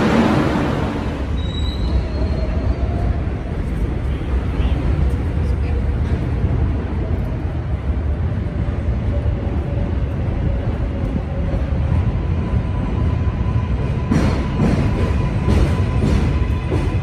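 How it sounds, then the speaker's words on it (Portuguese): A subway train in Brooklyn roars continuously overhead, a heavy rumble with metallic wheel squeals rising toward the end. "Olha o barulho do metrô."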